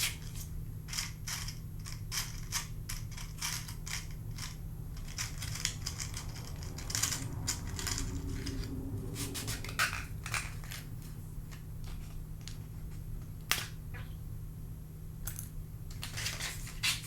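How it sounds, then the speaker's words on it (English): Small matches struck repeatedly in an up-close quiet setting, a run of sharp scratchy strikes and clicks over a steady low hum, with one strike failing to catch. "Trusty little matches."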